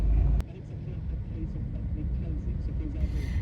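Steady low engine rumble and road noise from inside a moving car on a drive near Izmir, continuous and moderate, with a person talking over it.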